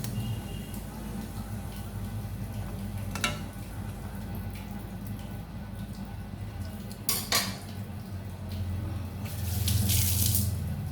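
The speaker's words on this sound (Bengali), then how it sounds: "আর একটু জল দিয়ে দেবো এক বাটি, মাছগুলো ফুটবে, একটু নরম হবে।" A bowl of water is poured into a simmering katla fish curry in a kitchen, a brief splash among clinking utensils and a faint background hiss, with no speech.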